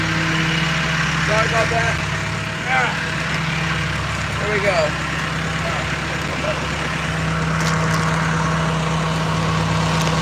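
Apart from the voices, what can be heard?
boat engine running inside cabin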